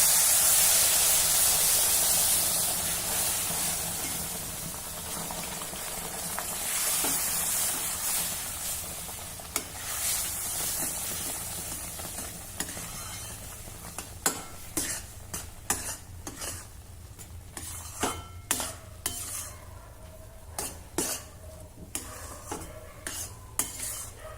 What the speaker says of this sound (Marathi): आता यामध्ये गरम केलेलं दूध घालूया।